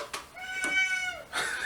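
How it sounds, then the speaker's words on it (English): A small pet cat meows three times in quick succession, each call a clear rising-then-falling cry close by and fairly loud, with no talking over it. "That's my little cat."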